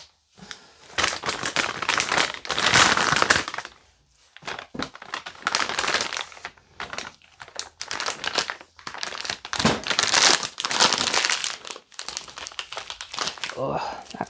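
A plastic piping bag crinkles and crackles in repeated bursts as it is handled and snipped open while decorating a Hello Kitty birthday cake, close and fairly loud, with someone talking over it.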